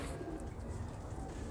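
Black-faced pigeons of an old breed cooing softly and continuously, a low murmuring coo close by with faint background noise and no voices.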